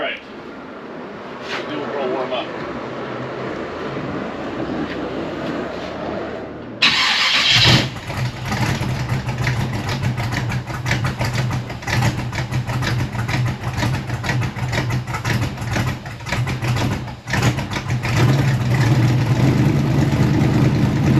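A 1955 Chevy Nomad V8, long abandoned and not firing on all eight cylinders, cranks and catches, then runs rough and loud with a steady low rumble, while people talk over it.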